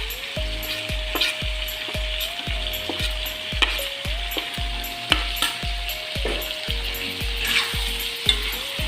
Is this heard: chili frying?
yes